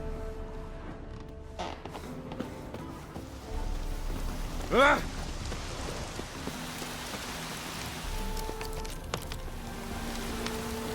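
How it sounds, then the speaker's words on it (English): Steady rain falls in The Witcher 3: Hearts of Stone, a continuous soft patter and hiss, with a brief louder swell midway and other faint game sounds underneath. "Rain was coming."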